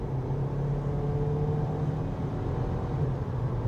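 Kia Niro HEV hybrid accelerating on a dual carriageway, heard from inside as a steady, fairly loud engine drone with low road rumble, continuous and without talk.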